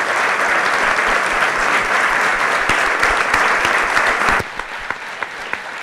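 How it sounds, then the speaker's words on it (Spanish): Audience at a literary and music conversation event applauding loudly and steadily, with the clapping thinning to a few scattered claps at the end. "gran aplauso."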